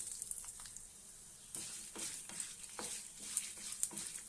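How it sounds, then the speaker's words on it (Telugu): Cloves fry in a pan of hot oil, a soft, steady sizzle broken by scraping stirs and a few light pops, quiet and close with no voices. "ఇవి 1 నిమిషం వేయించుకుందాం."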